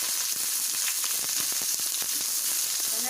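Sliced onions fry in a pan for a spicy chicken dish, giving a steady dense sizzle with crackling pops throughout, loud and close with no voices.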